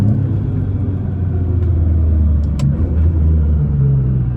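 A 1300 HP twin-turbo Nissan GT-R accelerates with a loud, steady, deep engine rumble that holds unbroken throughout, heard up close from inside the car with no talking.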